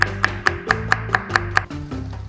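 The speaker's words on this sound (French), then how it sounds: "Et on va couper un autre piment." A knife chops a chili pepper on a cutting board in about eight steady, evenly spaced sharp strikes, close and clear over soft background music, with no talking.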